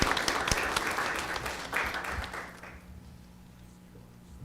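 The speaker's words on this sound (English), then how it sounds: "let's give our families, whether they're here or not, and friends, a big round of applause as well." Audience at a school district governing board meeting giving a round of applause, moderately loud and dense for about two and a half seconds, then tapering off into quiet room noise.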